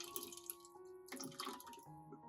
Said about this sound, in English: Afterward, we discard the rice water.